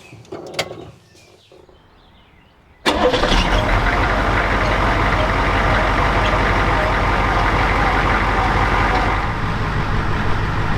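After a quiet moment with a few clicks, an old pickup truck's engine cranks and catches abruptly, then settles into a loud, steady idle rumble close by.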